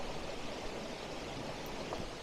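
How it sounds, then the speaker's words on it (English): A waterfall on the Cascade Waterfall Trail rushes steadily, a broad, continuous wash of falling water heard up close with no voices. "Here's a second waterfall right here."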